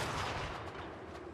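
A volley of gunfire rings out in the video game Total War Warhammer 3 as a dense, loud burst of overlapping shots that rumbles and fades over a second or so.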